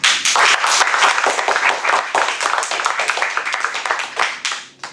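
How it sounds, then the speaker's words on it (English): An audience claps steadily at a Toastmasters meeting, a dense, continuous patter of many hands that holds at full strength for several seconds before tapering off at the end. "Clapping is really essential for Toastmaster meetings"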